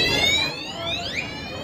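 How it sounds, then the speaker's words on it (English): Building alarms sounding during a campus evacuation, a shrill electronic tone sweeping in pitch over a busy background, moderately loud and slightly distant. "You can hear those alarms going off as crowds of students evacuated academic buildings."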